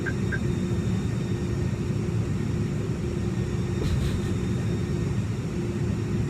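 Steady engine rumble of an Airbus A300 coming in to land in a flight simulator game, a constant loud drone with a brief click partway through, no voices.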